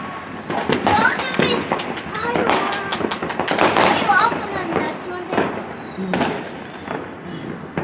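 New Year fireworks burst repeatedly nearby in loud crackling pops and thumps, overlapping one another, while excited voices, including a child's, talk over the display.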